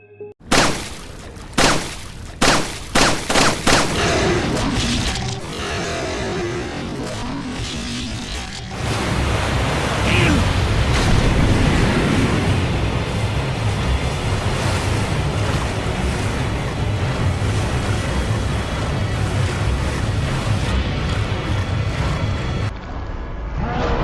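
Gunfire into river water in a violent video game: a burst of sharp, spaced shots, then a loud, sustained rush of churning, splashing water with no voices.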